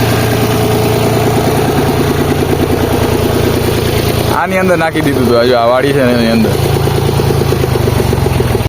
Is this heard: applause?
no